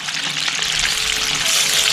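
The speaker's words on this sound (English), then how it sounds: "Got some fish frying." Striped bass from Lake Texoma frying in a pan, a steady, loud crackling sizzle with dense popping oil that continues without a break and no voices.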